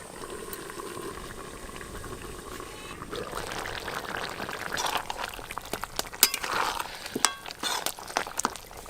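Goat mutton sizzles and bubbles as it is pressed and stir-fried in a hot pan for a red curry, a steady close-up frying hiss with sharper clinks and scrapes of stirring growing busier toward the end.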